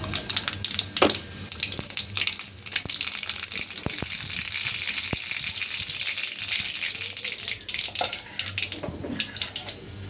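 Mustard seeds spluttering in hot oil, a dense crackle of rapid irregular pops and hissing, loud and close, running steadily with brief rattling bursts and no voices.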